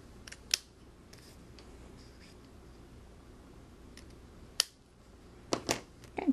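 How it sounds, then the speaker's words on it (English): Paper snips clip through the ends of a handmade onesie greeting card, a few sharp isolated snips spaced apart, then a quick cluster of cuts near the end, close up in a quiet room. "next I will take my paper snips and I will cut these ends"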